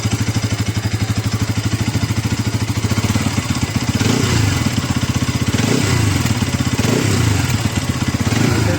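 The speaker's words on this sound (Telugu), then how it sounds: "ఈ బైక్ ఇంజిన్ సౌండ్ వినండి గైస్" A 2026 Bajaj NS200 motorcycle engine idles close by with a fast, even, throbbing single-cylinder pulse, growing a little louder and rougher partway through with a few slight blips, with no voices.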